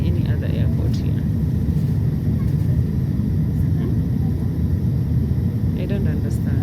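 An airplane descending to land at Addis Ababa airport, heard from inside the cabin as a steady, loud low roar of engines and airflow with no break.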